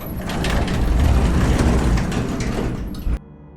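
An elevator grinding to a halt with a loud mechanical rumble and rattle, its doors sliding open, a sustained heavy clatter that ends abruptly in a sharp clunk.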